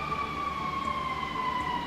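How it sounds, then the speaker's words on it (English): Emergency vehicle sirens wail steadily outside, a continuous sweeping tone that slowly drifts lower in pitch as it passes, heard alone over a constant background hum. "sirens,"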